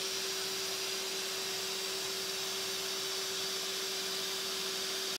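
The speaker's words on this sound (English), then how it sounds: "This is the 3D printer printing the prototype case." A 3D printer printing a prototype case for an FM radio gives off a steady whirring hum with constant fan-like hiss, running evenly throughout before cutting off abruptly at the end.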